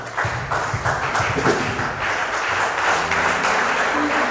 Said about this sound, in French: Si tu veux acclamer, tu peux acclamer le Seigneur.